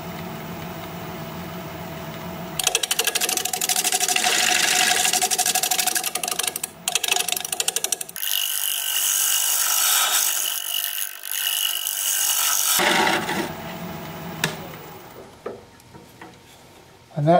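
A wood-turning lathe cutter shaves wood using only the bottom part of its wing, giving a loud, sustained whirring scrape that shifts into a thinner, hissing cut midway before trailing off.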